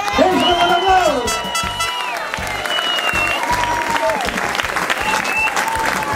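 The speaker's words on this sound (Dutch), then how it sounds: "Geef ze een applaus." Crowd applause and cheering greet a newly proclaimed carnival town prince and his minister, sustained clapping with whoops throughout while people talk over it at a festive event.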